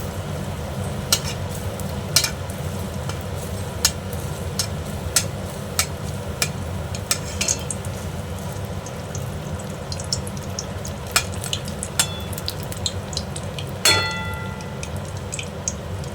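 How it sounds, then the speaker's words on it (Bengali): Malpua rounds fry in a pan with a steady, close bubbling sizzle and scattered sharp ticks and spatters throughout, with no talking. "এভাবে একটা একটা করে আমি সবকটা মালপোয়া ভেজে নেব।"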